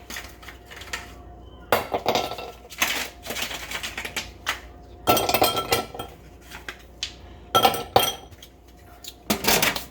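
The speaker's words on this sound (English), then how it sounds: "I want to ice up the glass." Ice cubes are dropped and rattled into a glass while a tequila drink is made, giving irregular bursts of sharp clinks and clatter over about ten seconds, close by, with no talk.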